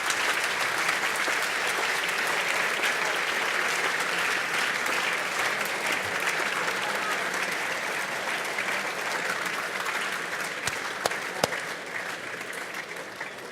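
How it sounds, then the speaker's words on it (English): Sustained applause from the audience at a Melbourne Mining Club event in London, a dense, steady wash of many hands clapping that holds evenly for the whole stretch with no talk over it. "you should give him another round of applause"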